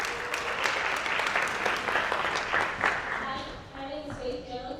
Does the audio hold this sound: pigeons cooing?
no